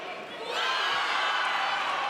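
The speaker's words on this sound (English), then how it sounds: "It's great hearing the reaction of the crowd when the live feed is getting fed through the video board in the arena." An arena crowd at a Lubbock Christian University versus Texas A&M International University game swells into distant cheering and whooping after a quiet half-second, sustained to the end.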